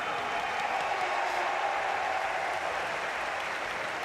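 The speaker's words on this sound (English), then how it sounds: "Big applause there from the crowd." A stadium crowd at the European Athletics Championships men's 800m heats in Munich applauds, making a steady, dense wash of distant clapping and cheering that holds evenly throughout.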